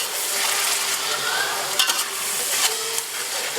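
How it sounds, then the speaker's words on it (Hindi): About 250 grams of tomatoes fry in oil for Bannu beef pulao, a loud continuous sizzle with spoon stirring and scraping, including a small cluster of clanks near the middle. "टमाटर नरम होने तक इसको पकाएंगे।"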